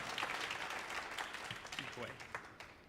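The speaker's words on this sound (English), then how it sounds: "you can clap for the Kennedy Center." An audience at a Kennedy Center performance claps in a brief burst of applause, heard a little distant with talk over it.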